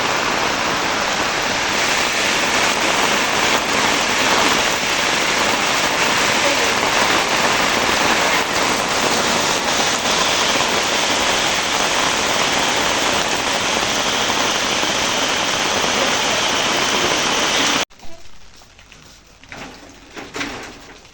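Heavy rain pours down under dark, clouded skies: a dense, loud, steady roar of falling water that holds constant for most of the span, then cuts off abruptly, leaving quieter scattered drips and knocks.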